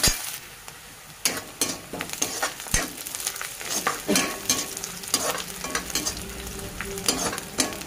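Chopped onions fry in hot oil in a pan in a village kitchen, a steady close crackling sizzle broken by bursts of stirring and scraping against the pan.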